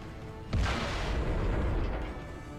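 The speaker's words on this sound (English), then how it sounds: "There's the artillery going in on him." Artillery fire in the World of Tanks video game: a sudden heavy boom lands about half a second in, then a dense rumbling roar carries on and slowly fades.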